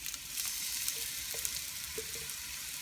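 Garlic and onions frying in a pan, a steady bright sizzle with a few light utensil taps and clinks, no talking.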